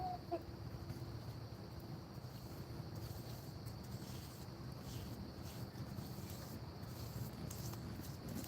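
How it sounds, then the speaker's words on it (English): A rooster clucks and murmurs steadily against a constant noisy outdoor background, with no talking. "The one you hear talking right now is my rooster."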